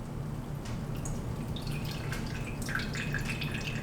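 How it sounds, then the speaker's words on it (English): Homemade almond milk poured slowly through cheesecloth, a steady trickle with soft irregular drips and splashes close by; no talking. "slowly start pouring in the almond milk so that you can start filtering out all the solids for the almonds"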